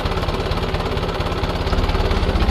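A French-built Ferguson Type 30 tractor engine runs close and loud, a steady rapid chugging thump with a rough mechanical rattle, unchanging throughout.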